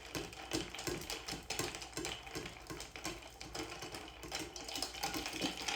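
Ice rattles and clinks steadily as a mochatini cocktail is stirred in a mixing glass, a quick, continuous clicking close by with no talking.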